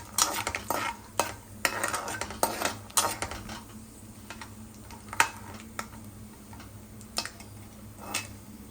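Peanuts stirred in a frying pan give irregular clicks and scrapes of a spoon against metal, clustered early and thinning out later, over a low steady hum.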